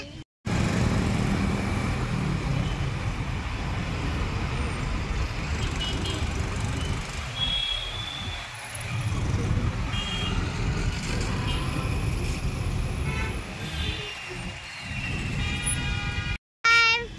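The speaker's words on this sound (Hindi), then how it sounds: "कितना ट्रैफिक लगा हुआ है? बहुत ट्रैफिक।" Heavy road traffic: a dense, continuous roar of engines with reversing-style beeps over the top. It is steady and fairly loud, with brief dropouts at the very start and end.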